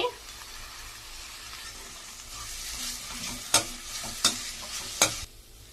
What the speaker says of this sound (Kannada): ಈಗ ಕೊತ್ತಂಬರಿ ಹಾಕಿ ಮಿಕ್ಸ್ ಮಾಡ್ಕೊಳ್ಳೋಣ ಬನ್ನಿ.